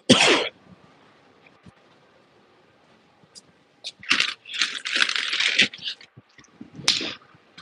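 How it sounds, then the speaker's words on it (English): A few sharp coughs and throat-clearing bursts come in short clusters, separated by quiet pauses, close to the microphone. "I'm gonna cough."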